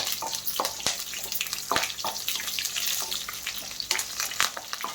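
Green and dry chillies sizzle in hot oil for tempering, giving a steady bright hiss with scattered pops and a few sharp crackles, close and moderately loud.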